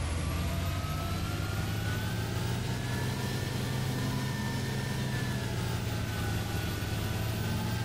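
A Fendt Vario 933 tractor engine from Farming Simulator 2013 drones steadily with a deep, constant rumble and a faint whine rising and falling slightly above it, loud and unbroken with no talk.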